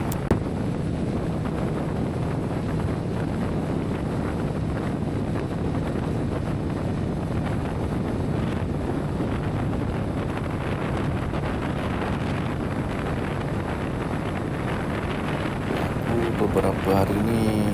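Riding a 2011 Kawasaki Z1000SX motorcycle on the road produces steady, loud wind buffeting over the microphone, with engine rumble blended underneath throughout.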